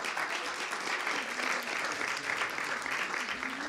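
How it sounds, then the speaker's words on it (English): An audience at a storytelling show in a theater applauds, giving one steady, dense round of clapping that continues throughout at moderate volume. "Let's give one round of applause for Janice."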